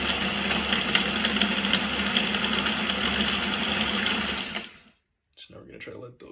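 A blender whirs loudly and steadily while making a peanut butter banana smoothie, a dense motor roar lasting several seconds before it cuts off abruptly, followed by quiet handling noises.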